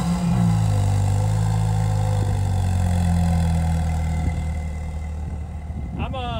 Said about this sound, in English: we're only going to talk about how good this car sounds